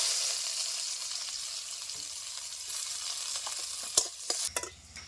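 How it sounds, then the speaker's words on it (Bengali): Chopped onion fries in hot oil with chilies and bay leaf, a constant close sizzle that turns into scraping stirs and clattering knocks of a spoon toward the end, with no talk. "পেঁয়াজটা ভাজা ভাজা হয়ে আসছে,"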